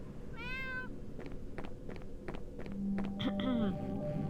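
A hungry cat gives two rising meows, one early and one later, over steady background noise, soft thuds and people talking nearby.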